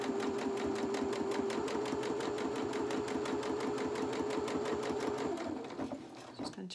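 A domestic sewing machine runs steadily, stitching the fabric of a small pair of boxer shorts with a rapid, even needle rhythm. It slows and stops near the end, followed by a few handling clicks.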